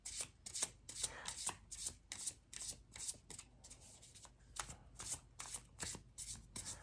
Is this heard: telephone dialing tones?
no